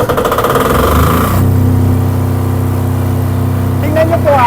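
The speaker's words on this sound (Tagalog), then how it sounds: "nagsasalita po ako, umaangar po yung generator" A 10 kVA diesel generator is started with a key, cranking briefly before settling into a loud, steady, close engine drone, with someone talking over it.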